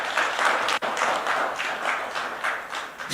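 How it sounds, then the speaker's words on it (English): An audience at a business event gives a brief round of clapping, dense and even, with one sharp thump partway through. "a big round of applause for all these 11 people"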